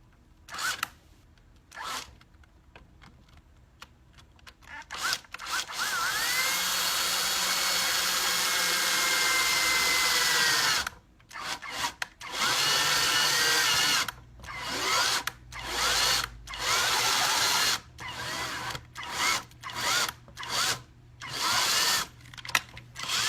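A power drill whirs loudly for several seconds, then runs in a series of short bursts with pauses between them, close by.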